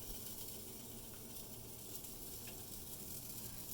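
Pancake batter sizzles in a hot pan, a steady, continuous frying hiss with faint crackle throughout, fairly quiet and close with no talking.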